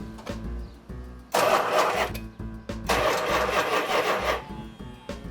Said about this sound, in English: Let's first see if it cranks over, Derek.